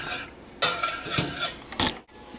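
Lip balm ingredients, oils with a few drops of strong essential oil, are mixed together in a small container: a couple of brief, close scraping and clinking stirs, loud and quick, then an abrupt stop.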